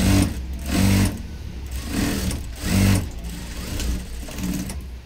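A sewing machine runs steadily while stitching blouse fabric, its motor humming close and loud with a pulsing rhythm as each run of stitches starts and eases off.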